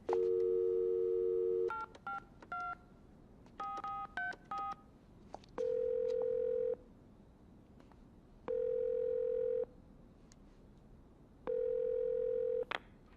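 A telephone dials out with a quick run of touch-tone beeps, then the ringback tone sounds three times as long steady tones separated by pauses, with no voices.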